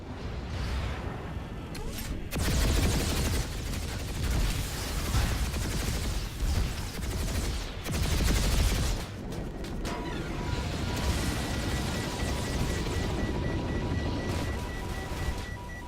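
An enemy firing at the player in a video game, heavy bursts of gunfire and rumbling impacts rising and falling loudly across the stretch, dense and close, with no talk.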